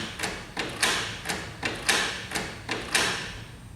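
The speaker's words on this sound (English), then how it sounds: "The printer starts cleaning the printhead deeply." An inkjet printer deep-cleans its printhead, giving a steady series of sharp mechanical clacks and whirs about every half second, each burst fading quickly, with no voices present.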